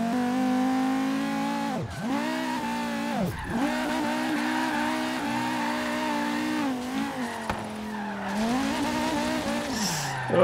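A Volvo 850 R with a swapped engine drifts in Forza Horizon 3, its tires skidding and squealing steadily over a continuous, loud engine drone that dips briefly as the car swings sideways.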